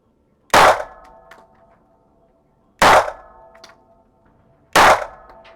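Three loud, sharp pistol shots from a Sig Sauer P226 or Grand Power T11 ring out at even intervals at a target, each followed by a short metallic ring and quiet between.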